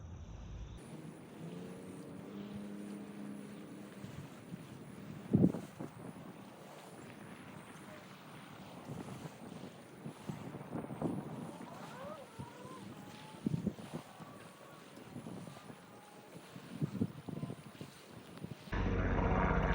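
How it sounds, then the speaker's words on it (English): A tour helicopter passes overhead on a windy outdoor morning: a low, steady engine drone with faint rotor tones, held at a distance under gusty wind noise and broken by a few louder thumps. "Not sure where these helicopter tours come from, but they're quite frequent, especially during the warmer months"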